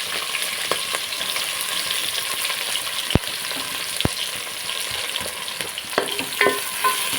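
Bay leaves for a chicken dum biryani crackle and fry in hot oil, a steady close sizzle with a few sharp pops and light stirring clatter, with no voices.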